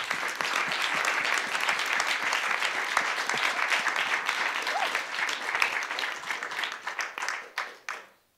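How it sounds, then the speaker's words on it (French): An audience at a public talk applauds the guests with sustained, loud, even clapping that thins out toward the end and stops abruptly. "On peut applaudir les invités."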